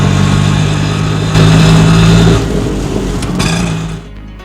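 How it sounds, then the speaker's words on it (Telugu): An auto rickshaw drives along, its small engine a loud, continuous buzzing drone with a rough low rumble, swelling briefly as it revs before easing off toward the end, with no voices. "ఆటోని అలగాపురికి నడిపాడు"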